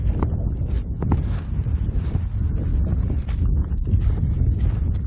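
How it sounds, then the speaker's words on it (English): Steady wind buffets the microphone throughout at a ghost town mill in Bonnie Claire, Nevada, a continuous low rumble with gusty surges, with scattered footstep-like knocks underneath. "It's pretty windy out here again."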